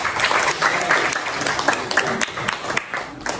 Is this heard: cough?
no